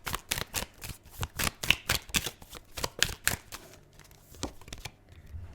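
Tarot cards are shuffled close up in a quick run of crisp riffling bursts and flutters. The bursts come in an uneven rhythm and fade toward the end.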